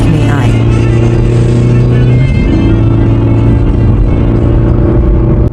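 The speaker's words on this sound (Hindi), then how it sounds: "तभी एक व्यापारी अपनी गाड़ी से गांव में आ जाता है।" A merchant's car drives into a village with a loud, steady engine hum and whir, shifting pitch partway through as it moves closer.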